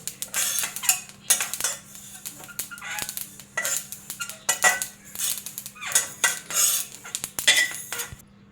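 Dry-roasted curry leaves are scraped out of a pan onto a plate, producing close, repeated metallic clinks and scrapes of a spoon against cookware in uneven bursts over a low steady hum.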